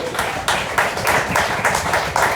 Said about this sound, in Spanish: Dale un fuerte aplauso al Lord